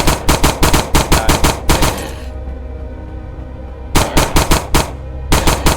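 Gunfire in the sci-fi shooter game SpacePunk: rapid, loud automatic bursts that stop for about two seconds of quieter ambience, then resume in more rapid volleys.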